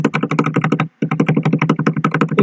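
Fast, steady typing on a computer keyboard, close and clear, with dense rapid keystrokes that break off for a brief pause near the middle and then resume at the same pace.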